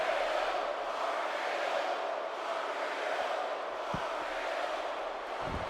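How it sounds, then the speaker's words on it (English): A wrestling arena crowd in the game WWE 2K17 sends up a steady, dense roar that holds loud and even throughout, with a few faint thuds from the ring underneath. "You can hear the crowd react."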